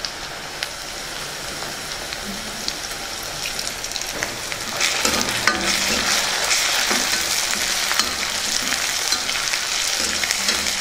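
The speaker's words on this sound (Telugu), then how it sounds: "ఉల్లిపాయలు పచ్చిమిర్చిని బాగా వేగనిద్దాం" Onions, green chillies and curry leaves fry in a pan for a traditional chicken mamidikaya dish, a steady close sizzle and crackle that grows louder and busier partway through, with no talk.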